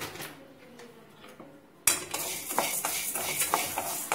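Urad dal roasting in a pan, stirred with a metal spoon that scrapes and clinks repeatedly against the pan after a quiet start, close and moderately loud.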